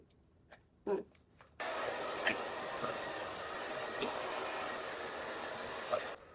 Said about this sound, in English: So I pull on it as I'm blow drying it just to give it a little more fluff.